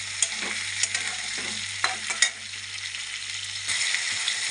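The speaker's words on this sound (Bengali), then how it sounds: "এবার লাল লাল করে আলু আর একটা ভাজা হবে" Salted potatoes sizzle loudly in hot oil in a pan for a rui fish curry, with a steady frying hiss broken by a few sharp scrapes and clacks of stirring.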